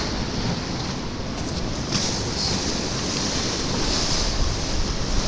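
Rough sea waves crash and wash onto the shore at Filey, a continuous loud roar of surf mixed with gusting wind noise on the microphone, with no voices.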